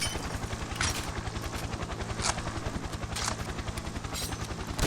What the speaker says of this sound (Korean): 오 헬기 왔다 오 헬기 왔다 이제 나와야 돼